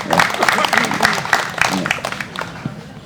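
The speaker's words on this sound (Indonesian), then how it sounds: "kita berikan aplaus untuk kader-kader Jumantik kita" A crowd applauds Jumantik mosquito-control cadres at a monitoring event in Lebak Bulus. The clapping is steady and dense for about two seconds, then thins into scattered claps, and a voice speaks over it.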